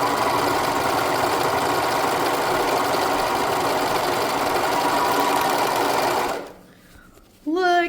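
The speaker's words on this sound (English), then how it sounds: "Let's go ahead and sew some gathers, guys." A sewing machine stitches gathers into fabric with a loud, steady mechanical whir that runs unbroken for about six seconds, then stops abruptly, followed by brief quiet and a voice speaking.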